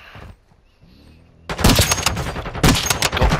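Sniper fire in a first-person shooter video game, a quiet stretch giving way to a burst of loud, dense gunshots and blasts that continue heavily to the end.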